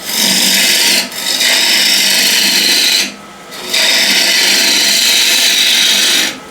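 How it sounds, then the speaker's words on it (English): Wood being pared with a hand carving tool riding its bevel, giving loud, steady scraping strokes with two brief pauses between cuts and no talk. "And now I can ride the bevel, make a nice clean cut."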